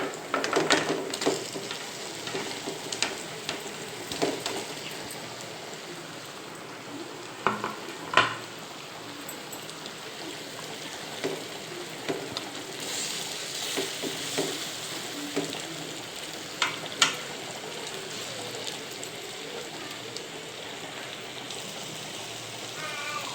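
Fish pieces frying in a pan for a Telugu fish curry (pulusu): a faint, steady sizzle broken by occasional scrapes and clinks of stirring and cookware.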